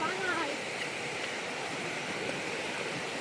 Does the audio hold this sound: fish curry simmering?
no